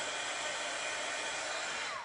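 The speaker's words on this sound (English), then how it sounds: "You can hear it, sounds like a little hair dryer." A small heat embossing tool blows hot air to dry paint on a handmade card, giving a steady hair-dryer-like whoosh and hum, close and even, ending as it switches off.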